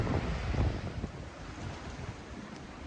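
Steady wind buffets the microphone over the low rush of waves against a sailboat moving at 5 knots in Force 5, 17-18 knot winds off Greece, with no voices.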